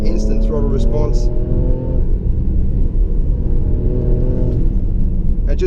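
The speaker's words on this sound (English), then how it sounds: "Yeah, 3rd gear, instant throttle response." A 2016 Jaguar F-PACE S 35t pulls hard in third gear, its engine note a steady, loud rumble with rising harmonics close to the cabin, with brief higher-pitched sounds early on.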